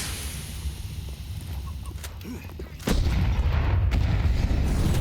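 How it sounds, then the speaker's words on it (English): Grenade blasts in a Counter-Strike match, a sharp loud explosion followed by a sustained roaring burst, with crowd and game noise throughout. "Nades find good damage."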